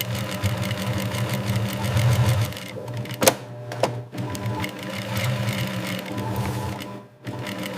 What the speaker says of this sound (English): Reinforced seams receive secondary stitching passes where required